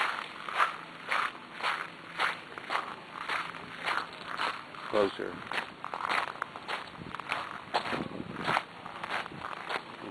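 Footsteps crunch on gravel garden paths in a steady walking rhythm, close and clear, with a voice speaking briefly partway through.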